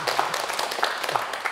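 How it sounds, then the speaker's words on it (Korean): A studio audience on a Korean television talk show claps in a steady patter of applause, moderately loud, with faint voices underneath. "박수."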